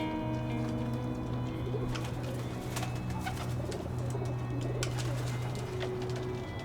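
Continuous soft cooing of white king pigeons, low repeated coos layered over each other alongside faint chirps and ticks in the background.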